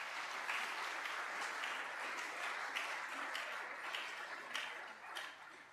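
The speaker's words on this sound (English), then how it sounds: "Let's give them all a big round of applause." Audience applause closing an evening economics lecture on trade unions, a broad, even patter of many hands clapping, fairly soft and distant-sounding, continuing without a break before tapering slightly at the end.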